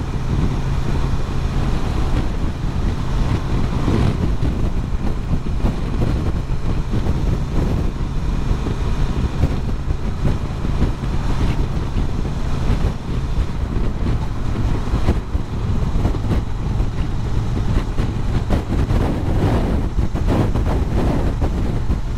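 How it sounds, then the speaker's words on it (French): Strong crosswind buffeting on a Honda XL750 Transalp motorcycle at speed: loud, constant rushing wind noise over a low engine hum throughout, with no talking. "c'est reparti pour le vent latéral"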